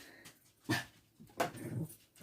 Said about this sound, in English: Two dogs fussing under the table.